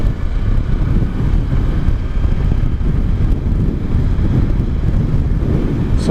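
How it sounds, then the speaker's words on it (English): Heavy wind roar buffeting a motorcycle helmet while riding a Kawasaki Versys-X 300 along a pipeline road in Botswana, loud, dense and unbroken throughout, no voices. "So nice to feel the wind blowing through your helmet. Hear the noise."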